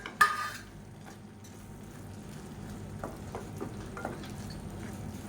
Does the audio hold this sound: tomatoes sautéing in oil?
yes